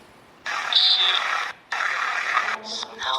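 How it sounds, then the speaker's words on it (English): Bursts of radio white-noise static hiss on and off during a paranormal investigation, two long sweeps of white noise separated by a short gap, then choppier fragments at the end. "I'm going to try it with white noise."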